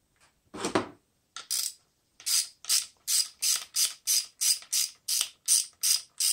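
A wrench ratcheting loose a lock nut with a small washer on a Can-Am F3 Spyder: one low clunk, then a steady series of about a dozen loud, close ratchet clicks, evenly spaced.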